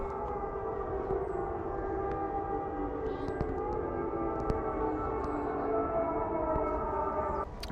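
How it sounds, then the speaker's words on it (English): Air raid sirens warning of missiles wail steadily across Lviv, a distant sustained wavering drone with a few faint clicks and knocks in the foreground. "that's the missile sirens going off"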